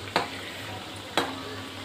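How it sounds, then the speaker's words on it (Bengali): Crispy khasta biscuits fry gently in oil with a steady, soft sizzle, broken by two short scraping stir sounds close by. "আমি এরকম হালকা আছে ভাজছি"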